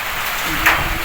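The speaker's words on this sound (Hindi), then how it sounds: "इटावा क्षेत्र में एक सप्ताह से बारिश का दौर लगातार जारी है" Steady rain has been pouring for days over the Etawah area, heard as a dense, even hiss of falling water with a brief heavier splash partway through and no voices.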